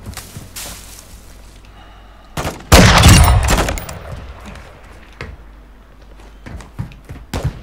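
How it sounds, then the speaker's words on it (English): Gunfire in Call of Duty Warzone DMZ: scattered distant shots, then a loud close burst of rapid fire around the middle, followed by a few more sporadic cracks. "I'm getting shot at already"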